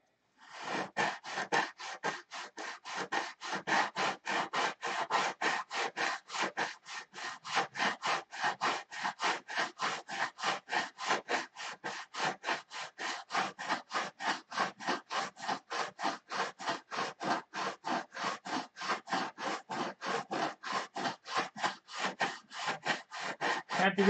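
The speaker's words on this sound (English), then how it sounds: "Now I can grind." Wood is being ground or rasped with steady, rapid back-and-forth scraping strokes, dozens of even rhythmic rubs repeating close and clear for the whole stretch, with no talking over them.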